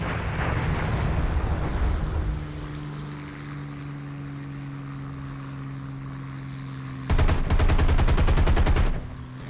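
Aircraft guns on a P-40E-1 Kittyhawk in War Thunder fire one loud, rapid burst of nearly two seconds, following a steady engine drone with a low hum. No voices.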